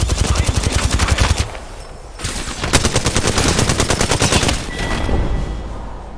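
Automatic gunfire in the video game Apex Legends, loud rapid bursts of shots with a short pause, then more sustained firing and a final burst, close and dense.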